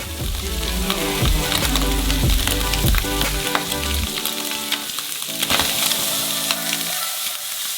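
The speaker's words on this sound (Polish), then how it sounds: "A następnie smażymy w nim wszystkie nasze warzywa." Vegetables frying in hot bacon fat with a constant bright sizzle, punctuated by the knocks and scrapes of stirring in the pan.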